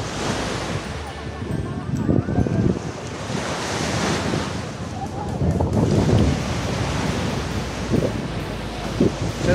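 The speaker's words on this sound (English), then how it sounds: "so that's the beach at Fraser's" Surf washing onto the beach at Fraser's, France, on a hot day, a steady broadband wash with wind buffeting the microphone and periodic swells of breaking waves, fairly close and continuous, with no voices.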